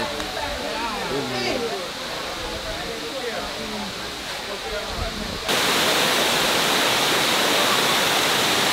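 The cascading water of Dunn's River Falls gives a steady broadband roar, with people talking over it at first before the rushing water swells louder and closer.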